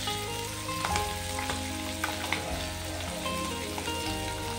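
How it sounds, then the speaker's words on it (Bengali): Small mola fish fry in hot oil, giving a steady, close sizzle with occasional crackles and light pops throughout, without any speech. "এই মৌরলা মাছগুলো ভাজা হয়ে গেলে"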